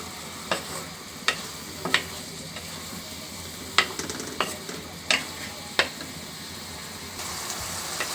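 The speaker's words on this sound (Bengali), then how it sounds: "টমেটো এবং মাছটা খুব সুন্দরভাবে মশলার সাথে কষিয়ে নিব।" Fish, tomato and spices being stir-fried in a kadai, with a steady sizzle and repeated scraping, clinking strokes of a spatula against the pan at uneven intervals, heard close with no talking.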